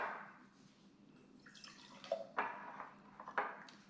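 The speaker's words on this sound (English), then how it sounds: "We're going to pour our water first." Water poured into a jar in short splashing bursts, with a few distinct drips and trickles, fairly quiet with brief pauses between pours.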